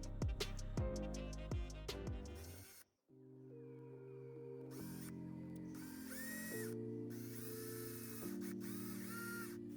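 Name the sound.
drill drilling through aluminum piece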